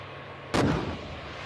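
A single tank main gun fires at a helicopter target during a tank gunnery competition: one sharp, loud boom cuts through a low ambient hum, then decays over about half a second.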